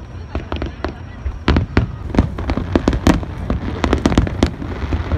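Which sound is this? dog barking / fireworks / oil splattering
fireworks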